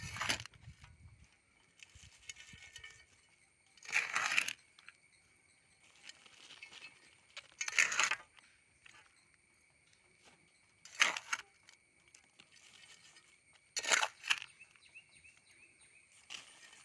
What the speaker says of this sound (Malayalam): ഇനി നമുക്കിതിലേക്ക് മണ്ണിട്ട് കൊടുക്കാം കേട്ടോ